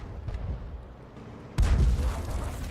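A single heavy boom from an SU-8 artillery gun in a tank video game lands abruptly after a low engine rumble, its deep blast ringing out and decaying over the final second.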